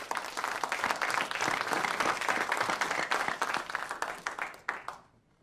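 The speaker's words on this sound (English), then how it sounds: "Have a round of applause for the young people." Conference audience applause, a loud wash of many hands clapping that holds steady, then thins out and fades quickly at the end.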